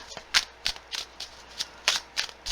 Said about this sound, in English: See what comes up after we get a nice shuffle on this